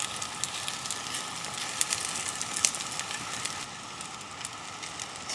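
Mushroom and prawn Japanese pancake batter sizzles steadily in a non-stick pan, a continuous close frying hiss with faint crackles, heard alone.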